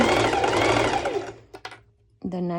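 Stitching on Heidi bikini bottoms: a sewing machine runs fast and close for just over a second, then a few faint clicks follow and a voice starts speaking.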